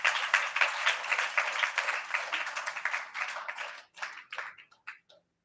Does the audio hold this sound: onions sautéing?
no